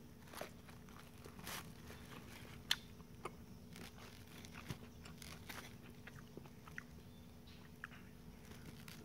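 A crunchy snack from a market is chewed close to the mic, giving soft repeated crunches and occasional sharp bite clicks over a faint steady hum, no speech.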